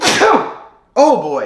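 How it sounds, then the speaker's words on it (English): A single sharp sneeze bursts out up close, followed by a brief pause and then someone speaking. "that was a sneeze."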